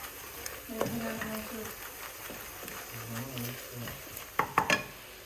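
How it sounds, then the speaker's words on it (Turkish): Food sizzles and crackles steadily in a hot pan, with a few stirring scrapes and low voices talking nearby; utensil clinks near the end. "Ve iyice kavrulmasını bekliyoruz"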